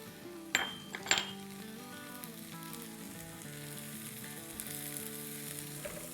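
Shredded vegetables seasoned with salt and black pepper sautéing in a pan for a veg casserole, a steady close sizzle opened by two sharp clinks of a utensil against the pan.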